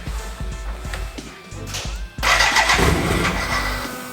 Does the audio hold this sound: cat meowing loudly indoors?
no